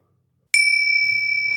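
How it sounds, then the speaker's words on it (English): A pet dings a small bell once, a bright ringing tone that starts suddenly after silence and sustains, with low handling rumble creeping in underneath. "why don't you ding the bell while you're up there, my man?"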